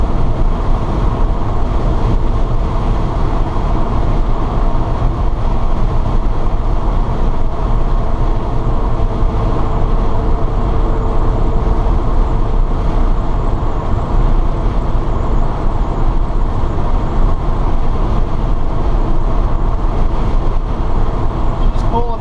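An electric Porsche 912 conversion cruising at highway speed, about 63 mph, with a slight vibration felt in the tires: a steady, loud, unbroken rumble of road and tire noise with wind, constant throughout.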